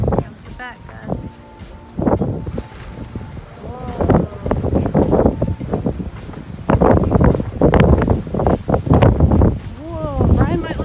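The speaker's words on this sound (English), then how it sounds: "Comes the back gust." Strong wind gusts roar and buffet the microphone in bursts, with excited voices talking and exclaiming throughout.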